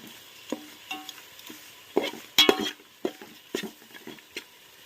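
A spoon stirs chicken biryani masala in a pot after salt goes in, giving a series of close scraping strokes and metallic clinks over a low simmering sizzle.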